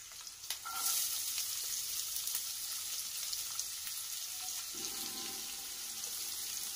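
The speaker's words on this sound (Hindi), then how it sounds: "प्याज थोड़ा सॉफ्ट होने तक इसको फ्राई करें।" Chopped onion frying in a pan with green chili and curry leaves for poha, a steady bright sizzle with occasional stirring scrapes, close and continuous with no talking.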